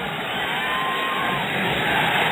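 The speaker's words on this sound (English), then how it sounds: "Ocampo hits the three. The crowd erupts." Dense arena crowd at an international basketball game between the Philippines and Iran roars continuously after a three-pointer, a loud broad wash of cheering and yelling with no pauses.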